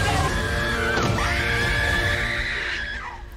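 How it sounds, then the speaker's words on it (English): A girl's piercing, sustained scream from a supernatural TV drama scene, loud and close, rising and wavering over about three seconds before tapering slightly at the end, with dense music or ambience beneath. "I don't like hearing Davina scream like that."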